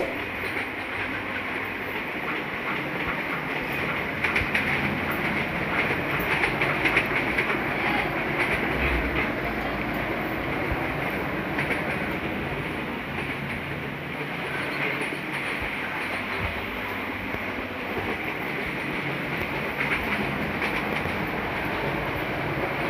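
Duronto Express train speeding through a level crossing in Trainz Simulator, a steady loud rumble and rail clatter running throughout with no break.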